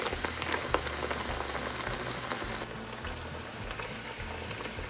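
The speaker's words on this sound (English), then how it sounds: "grab a nice spoonful and just plop it in the oil" Spoonfuls of apple fritter batter fry in hot oil, giving a steady, dense crackle and fine bubbling that runs continuously, slightly quieter in the second half, with no voices over it.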